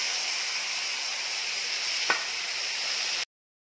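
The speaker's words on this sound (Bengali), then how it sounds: "চিকেনের তেলটা গরম হয়ে গেছে, সরষের তেলেই দিয়েছি, মশলাগুলো দিয়ে দেবো" Spices dropped into hot mustard oil for a chicken dish, a steady loud hiss of sizzling with a single utensil tap midway, cutting off abruptly near the end.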